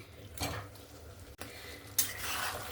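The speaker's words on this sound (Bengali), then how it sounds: "ভেজে রাখা আলুগুলো দিয়েও আবারও একটু 2 মিনিট কষিয়ে নেব।" Fried potatoes stirred into a simmering mutton curry in a pan, with two or three short scraping stirs and a soft sizzle underneath, close up, with no one talking.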